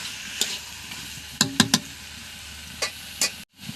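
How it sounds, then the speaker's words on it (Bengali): Chicken pieces sauté in a pan with a continuous close sizzle, punctuated by several sharp stirring scrapes in quick bursts, then a brief drop to near silence at the end. "কিছুক্ষণের জন্য মাংসটাকে কষাতে হবে"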